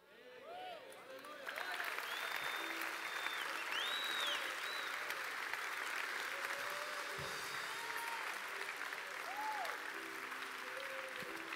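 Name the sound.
congregation applauding the Lord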